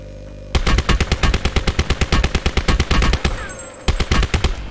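A Reaper weapon skin fires in a video game: loud, rapid automatic gunfire in a steady burst, a brief pause, then firing resumes, heard up close with no talking.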